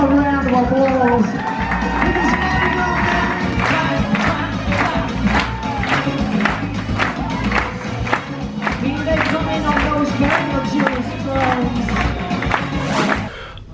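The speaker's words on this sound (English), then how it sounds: "Give them a round of applause." A crowd on a Carnival Mardi Gras cruise ship claps and cheers steadily for a Mardi Gras king and queen's entourage, dense rhythmic applause mixed with shouts over music, stopping abruptly at the end.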